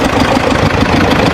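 An old second-hand tractor engine idles steadily at close range, a loud continuous low rumble with no pauses or talk over it.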